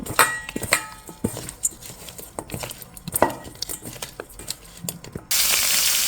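Hilsa fish pieces rubbed with turmeric and salt go one by one into hot oil in a wok: scattered clinks and knocks, then a sudden loud, sustained sizzle close by.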